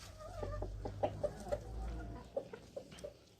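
Chickens let out in front of a house door cluck in short, uneven bursts close by, several soft calls spaced across a few seconds with a low background rumble.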